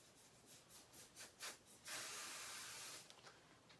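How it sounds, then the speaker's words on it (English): Basting spray hisses onto the back side of a leather wallet piece in a steady close burst of about a second, preceded by several short spritzes, with no talking. "spraying this with some basting spray"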